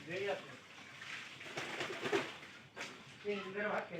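Pigeons coo in soft rolling phrases inside a loft, low and fairly close, with a person speaking over and between the calls.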